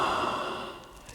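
A single deep, audible exhale during a yoga class, a soft breathy rush of air fading out over about a second, heard alone.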